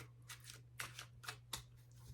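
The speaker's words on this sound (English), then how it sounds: "So that's how you shuffle cards." Playing cards being shuffled by hand, several quick riffling bursts in an uneven rhythm, close and soft, over a low steady hum.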